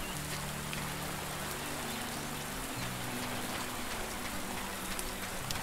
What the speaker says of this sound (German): Jetzt regnet es hier.